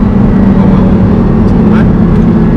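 An Audi R8 V10 Plus sports car engine roars in a loud, steady, deep drone heard from inside the cabin, with a voice speaking over it.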